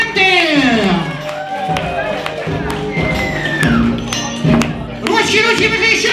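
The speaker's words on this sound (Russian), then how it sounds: "бурные овации и аплодисменты" Concert audience cheering and clapping for a live performance, a loud crowd roar with scattered claps and whoops that swells at the start and end, mixed with voices and music.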